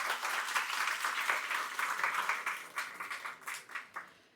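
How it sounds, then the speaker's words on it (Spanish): Applause from an audience at a social work academic association event in Ecuador: dense, steady clapping that thins toward the end into looser, separate claps. "Un aplauso, por favor."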